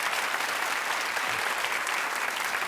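Studio audience clapping on a talk show, a dense, steady wash of many hands at close range that holds at an even level throughout with no voices over it.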